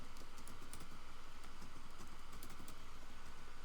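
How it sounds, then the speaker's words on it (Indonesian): Quiet, steady keystrokes on a computer keyboard as a status command is typed into the MySQL command-line client, a continuous run of soft clicks with no voice. "ketik aja status gitu ya"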